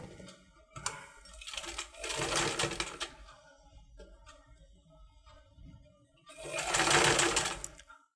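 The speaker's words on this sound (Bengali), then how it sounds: "রেখে তারপর সেলাই করে নিচ্ছে" Electric sewing machine stitching a blouse in two loud, steady whirring runs, with quieter handling clicks and fabric rustle between them, heard up close with no talking.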